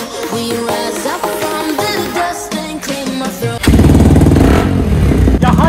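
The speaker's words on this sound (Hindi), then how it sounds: "बाइक को ऑन करते हैं, स्टार्ट करते हैं यार" A motorcycle is started and revved close by, its engine catching after clattery mechanical noise and then roaring loudly with throttle blips.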